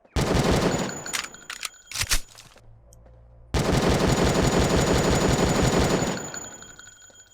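Rapid automatic gunfire in the Jurassic Park Revolution video game, two dense loud bursts of shots with a brief quiet gap between them and a few scattered single shots, ending as the firing fades.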